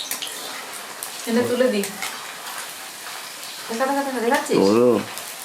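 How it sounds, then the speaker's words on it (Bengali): Paneer pieces fry lightly in a pan with a soft continuous sizzle and occasional stirring, while a voice speaks intermittently over the cooking. "পনিরটা হালকা ভাজবো বেশি ভাজবো না"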